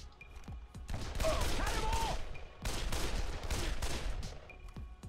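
Sustained gunfire from a rifle in the Dead Island video game, a dense burst lasting over a second and a second long burst after a short pause, loud and close with a few shouted voices mixed in.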